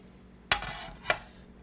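A big mixing bowl is set down and handled on a kitchen counter while cornbread muffins are being made: two clear clunking knocks about half a second apart, close and moderately loud against a quiet room.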